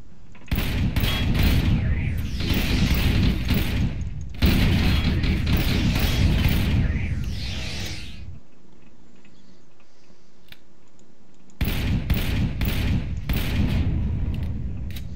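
Explosions in the space survival game Empyrion Galactic Survival, a series of loud broadband blasts and crackling bursts in clusters, with a quieter gap of low rumble before another volley of sharp booms.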